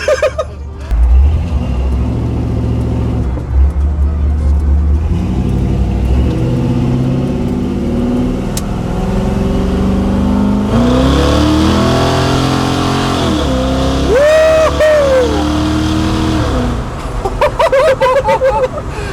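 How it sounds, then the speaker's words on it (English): An old muscle car engine rumbles loudly while driving, rising through a couple of revving surges with a whining pitch climb, and people talk excitedly over it inside the cabin. "this is a full-on muscle car"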